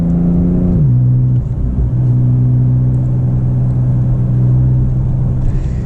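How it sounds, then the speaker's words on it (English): A Porsche 992 Turbo S engine drones loudly from inside the cabin during a paddle downshift, its pitch stepping once as the gear changes, then settling into a steady rumbling hum. "Let's see if I downshift in this paddle."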